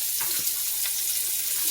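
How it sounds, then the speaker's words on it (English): Food for a beef and mushroom risotto fries in a hot sauté pan, giving a steady, close hiss with a couple of soft clinks early on and no voices. "And you're going to want to go ahead and fry this for about 10 minutes."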